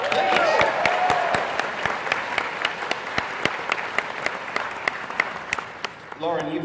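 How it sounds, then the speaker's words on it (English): Convention-goers at a Bronycon panel burst into loud applause that thins into scattered individual claps, then a voice starts talking just as the clapping ends. "huge round of applause for that."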